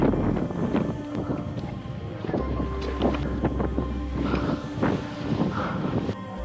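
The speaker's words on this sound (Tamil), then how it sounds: "காற்று தான் ஹெவியாக அடிக்குது." Strong wind roars across an open hilltop on a trek in Chikmagalur, a steady loud rush buffeting the microphone with gusty swells throughout, no voices.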